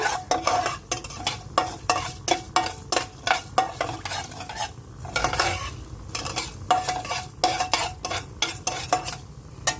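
Pickle ingredients fry in a pan with continuous crackling sizzle, punctuated by frequent scraping stirs of a utensil against the pan, close and fairly clear, with no talking.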